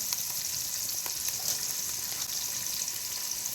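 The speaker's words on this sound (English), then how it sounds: "I will let it fry" Turmeric powder, black pepper and salt sizzling in hot oil for a mutton stew: a steady, soft, crackling fry with faint spatters throughout, no voices.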